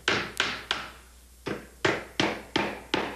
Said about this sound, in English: Then drive the finishing nails.